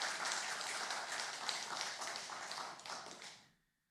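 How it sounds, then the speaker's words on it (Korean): A church congregation claps warmly during a Sunday worship service in Seoul, a dense, steady roar of many hands that carries evenly before fading out near the end. "같이 인사하실 때 여러분 축복하면서 감사하는 박수 뜨겁게 해주시면 감사하겠습니다."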